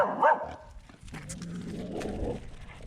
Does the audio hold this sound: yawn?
no